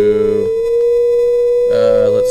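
A phone tone generator sounds a steady 523 Hz sine wave, a high C, as a clear, continuous pure tone; someone talks over it briefly at the start and again near the end.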